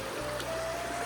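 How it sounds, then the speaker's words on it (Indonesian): A small river stream flows down from a hill, giving a steady, close rushing and trickling wash of water with no break. "aliran sungai ini yang kecil ini dari arah bukit itu alir arusnya ke arah sini"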